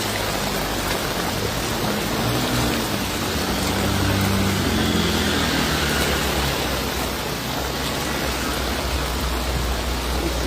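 Heavy rain pours steadily during flooding in Bhildi, a dense, continuous broadband hiss with no gaps and no talk over it.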